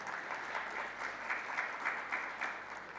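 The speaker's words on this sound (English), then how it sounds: "Can I have a round of applause as I say that?" An audience at a corporate investor day applauds steadily for about three seconds. The clapping is dense and even, heard at moderate distance with no voices over it.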